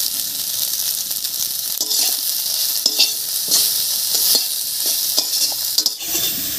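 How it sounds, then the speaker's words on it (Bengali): Soya chunks, drained and dusted with salt and turmeric, fry in hot oil with a steady close sizzle, broken by occasional stirring scrapes and crackles throughout. "সয়াবিনটার জলটা ঝরিয়ে রেখেছিলাম, এবারে ভেজে নেব"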